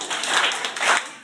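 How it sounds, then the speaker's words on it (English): A few hand claps in a children's stomp-and-clap song, two soft broad bursts close by over a low background murmur, with no one talking. "And then you clap,"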